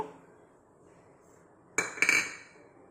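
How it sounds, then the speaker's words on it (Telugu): Mustard seeds dropped into a hot pan for guava pickle burst into a short, sharp spattering crackle after a quiet stretch, a close cluster of popping and sizzling that quickly tapers. "ఆవాలు వేసి ఫ్రై చేద్దాం. ఇప్పుడు ఫ్రై అవుతున్నాయి, సౌండ్ వస్తుంది కదా"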